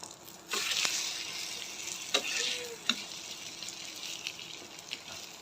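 Pieces of egg frying in a pan, with a steady moderate sizzle and crackle throughout and a few small ticks and taps from a utensil.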